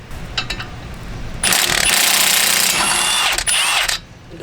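A power tool whirs for a few seconds as it spins the caliper bracket bolts off the front brakes of a 2010-2016 Honda CR-Z, loud and close, with some clicks before it starts.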